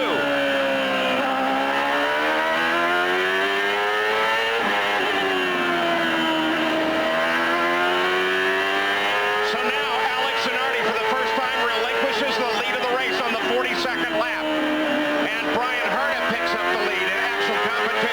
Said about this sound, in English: Brian Herta grabbed the lead coming down into turn 2